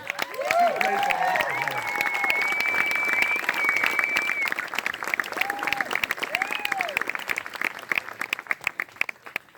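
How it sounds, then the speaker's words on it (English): A crowd at a speech breaks into sustained applause, dense clapping and some cheering that carries for several seconds, with a few whistles and raised voices rising above it before the clapping thins out near the end. "I really want a round of applause for Maggie"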